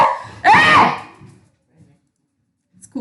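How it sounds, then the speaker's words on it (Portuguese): A dog barks once, loud and close, with a sharp yelping burst during an online biology lecture given from home, followed by near silence, a faint distant yelp and the start of another noise. "hoje tá complicado com os cachorros"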